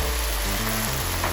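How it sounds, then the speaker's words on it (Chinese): Meat and mushrooms stir-frying in a hot pan with chopsticks, a dense continuous sizzle throughout with no voices. "筷子其实炒菜是很爽的"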